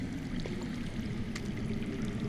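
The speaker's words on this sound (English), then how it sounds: "I hear water. From underground." Low, steady rushing of underground water in the Game of Thrones Telltale game, a continuous muffled flow with no talk over it.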